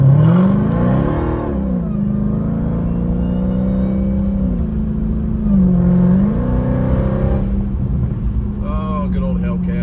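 A Dodge Hellcat revs and accelerates nearby, its pitch rising and falling through gear changes, a loud continuous roar with tonal whine.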